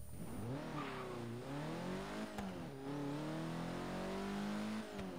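A hatchback car accelerating hard from 0 to 60 in Forza Horizon 3, its engine climbing in rising revs through gear shifts, loud and continuous with tire noise and no talk.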